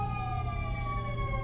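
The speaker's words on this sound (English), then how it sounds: "Pardon the sirens." Ambulance sirens passing outside, a steady wailing tone drifting slowly downward over a low rumble of traffic, moderately loud throughout the short stretch.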